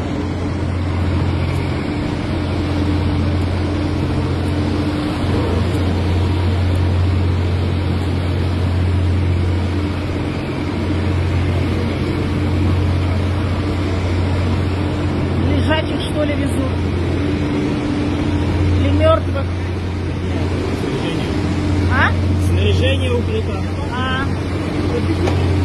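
A steady, low drone from a fleet of boats on the water during an EMERCOM emergency services parade in Orsk, continuous and fairly loud, with someone speaking over it and brief clicks toward the end.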